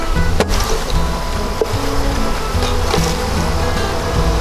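Honey bees from a package being installed into a hive swarm in a dense, loud, continuous buzz close by, with a few sharp knocks and bumps.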